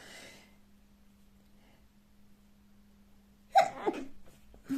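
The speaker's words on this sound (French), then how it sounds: "Je vais éternuer, pardon." After a long stretch of near silence with a faint low hum, one sudden, close sneeze bursts out.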